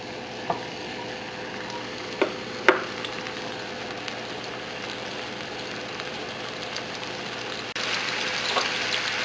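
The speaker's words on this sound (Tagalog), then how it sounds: "igigisa na natin yung bawang" Garlic sautéing in hot cooking oil in a pan, a steady close sizzle with a few sharp pops and crackles throughout, growing slightly louder near the end.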